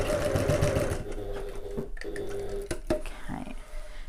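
Sewing machine stitching a bag's lining main panel, a fast steady whirr of needle strokes at first, then slowing to pauses and a few clicks and handling noises, with a voice talking over it.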